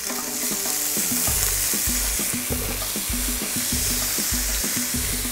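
Meat sears untouched in a frying pan, spread evenly across the hot surface, giving a loud, steady, close sizzle with a low tonal hum running beneath it and no talking.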